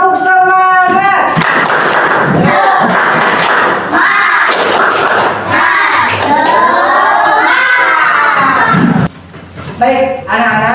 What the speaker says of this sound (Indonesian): Baik, tepuk semangat.